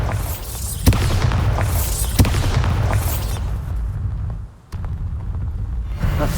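In the video game Hogwarts Legacy, the Bombarda explosion spell goes off with sharp booms and cracks over a dense rumbling bed, then the noise dips briefly before resuming.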